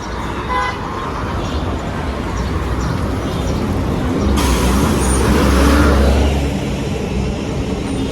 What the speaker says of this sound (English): Quite busy traffic atmosphere now.